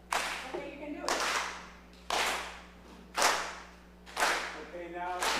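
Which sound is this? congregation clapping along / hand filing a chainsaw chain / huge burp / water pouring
congregation clapping along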